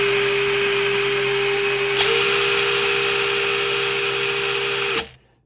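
Black & Decker brushed cordless impact driver (BDC120C) running steadily at full speed, a loud continuous whining motor drone with no hammering, then cutting off abruptly at the end.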